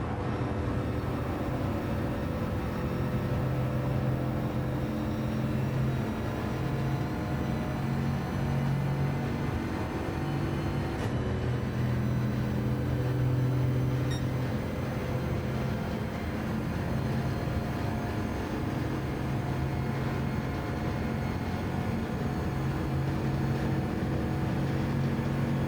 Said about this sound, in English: Just listen how quiet this engine is compared to the other machines on track.